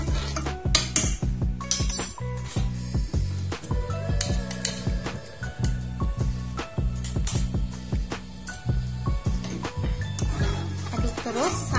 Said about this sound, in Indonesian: Aduk terus sampai mendidih.